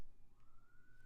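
Police siren in a residential neighbourhood, faint and far off, a thin tone gliding slowly upward through a quiet indoor room.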